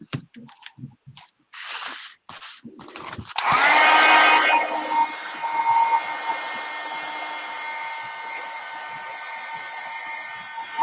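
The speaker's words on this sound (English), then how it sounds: "she's got her heat gun on" After a few thumps and rustles, a heat gun switches on and blows with a steady, loud whooshing hiss that continues to the end.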